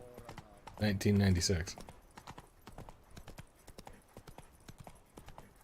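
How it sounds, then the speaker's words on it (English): A horse's hooves clip-clop in a steady, brisk rhythm during riding in The Witcher 3, with a short spoken phrase at the start, then regular, fairly close hoof knocks that continue alone. "Clip a clop, clip a clop, clip a clop, clip a clop"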